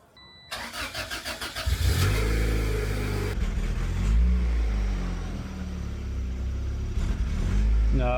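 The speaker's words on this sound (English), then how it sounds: "Okay, so we started up the car and it doesn't work." A turbocharged Honda Integra running on flex fuel cranks with a rapid rhythmic starter whir, then catches and idles loudly and roughly up close, with the engine note surging and wavering.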